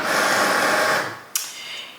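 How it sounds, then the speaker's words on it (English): A Cricut cutting machine begins a cut for a DIY jewelry gift box, producing a steady whirring motor hum that fades after about a second, followed by a sharp click and a quieter mechanical buzz, close and unaccompanied by talk. "And the machine is gonna check to make sure I put in the right blade and everything."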